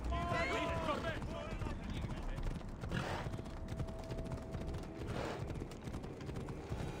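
Horse galloping in the video game Assassin's Creed Odyssey, with steady hoof clip-clop running under game music and effects, while someone talks over it at times.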